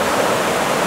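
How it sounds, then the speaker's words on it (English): Floodwater from the May 2011 Plainfield, Vermont floods churns around a bridge blocked by backed-up logs, a loud, close, steady roar of rushing water in a brief burst. "the water found the channel going around"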